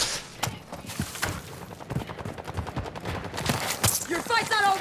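Gunfire crackles in Call of Duty DMZ as rapid, sharp shots in irregular bursts over a noisy battlefield background, some close and loud, with a voice speaking briefly toward the end.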